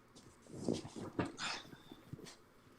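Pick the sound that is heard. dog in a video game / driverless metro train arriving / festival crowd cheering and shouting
dog in a video game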